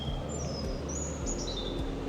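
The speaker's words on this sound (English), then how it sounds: "And some beautiful bird song." Birds chirp and sing in short high whistling phrases outside a window at the Palace of Versailles, with magpies about, fairly faint over a steady low outdoor hum on a cool morning.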